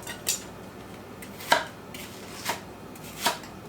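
Knife chopping a sweet onion into chunks on a board, three or four separate sharp cuts spaced apart, close and fairly quiet, with no talking.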